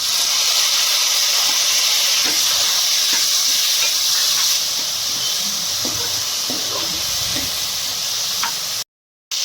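Tomatoes dropped into browned onions in a pan for Punjabi palak chole dal give a steady, loud hiss and sizzle that fills the whole stretch, with small crackles scattered through it before a brief cut near the end.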